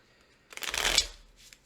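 A quick riffle of a deck of cards being shuffled, a brief fluttering burst close by, followed by a soft tap.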